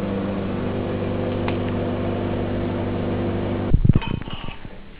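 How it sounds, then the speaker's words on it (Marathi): A microwave oven runs on high power with a steady loud hum while cooking chopped capsicum for pav bhaji, then stops abruptly with a clunk and a faint glassy clink. "हाय पॉवरवर आणखी 2 मिनिटं मायक्रोवेव्ह करा"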